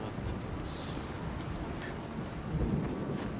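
Steady rain with low rumbling thunder in the Shadow of the Tomb Raider video game, a continuous dense hiss that swells slightly toward the end, with no talk over it.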